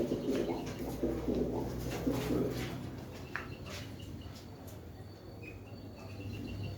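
Pigeons coo softly inside a bird shop that sells pigeons, guinea fowl, turkeys and chickens, with a few low, rolling coos early on over quiet room noise and faint chirps from other caged birds.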